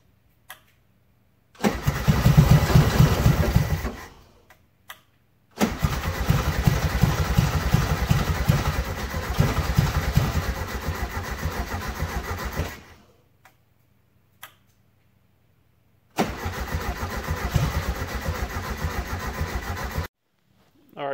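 Small engine fed fresh fuel straight through a direct line with no filter, starting and running in three rough, ticking bursts of several seconds each, separated by silent stalls and cranking clicks.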